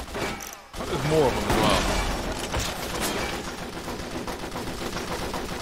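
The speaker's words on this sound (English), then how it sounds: "Let's just shoot this guy." Rapid gunfire from the shooter game 50 Cent: Blood on the Sand, dense bursts and crackling shots layered over game action while someone talks over the fighting.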